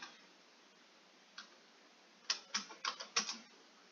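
Someone types the ifconfig command on a computer keyboard on a Kali Linux machine: one lone tap, then a quick run of about six crisp, close clicks in an otherwise quiet room with no talking.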